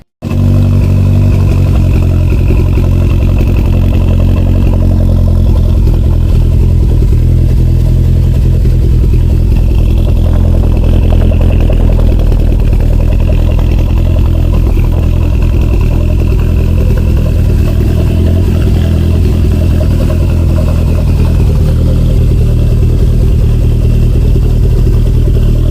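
A Toyota MR2 fitted with an Apexi N1 Evolution exhaust idles steadily in a garage, giving a continuous low burble that stays loud and close throughout, with no voices over it.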